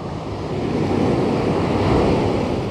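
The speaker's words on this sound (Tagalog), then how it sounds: "Kahit malakas ang alon" Strong ocean waves roar steadily at a rocky shore with a broad, rushing surge and wind buffeting the microphone, no voices.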